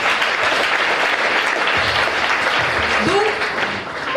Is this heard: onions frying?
no